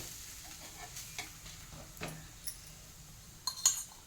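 A green moong dhirde, a lentil pancake, flipped on a hot pan, with a quiet, steady sizzle broken by a few light clinks and scrapes of a spatula, nearby but faint.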